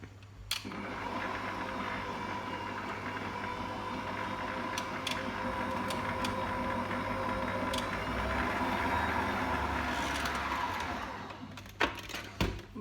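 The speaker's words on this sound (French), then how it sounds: "quand on monte une crème, on augmente progressivement la vitesse du robot" A stand mixer whips liquid cream into firm peaks, its motor whirring steadily and fairly quietly and building slightly in intensity, with a few clicks and knocks at the start and the end.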